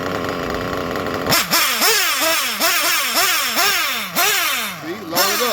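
A budget RC nitro engine starts after a second of background noise, then runs loud and close with a rapid buzzing whine that rises and falls in repeated throttle blips, about one per half second.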